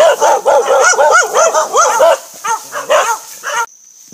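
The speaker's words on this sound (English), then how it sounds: "Those are the neighbors' dogs. They don't sound very friendly." Several dogs bark loudly and repeatedly from behind a fence in a Hawaiian yard, the overlapping yaps and barks filling most of the clip before stopping abruptly.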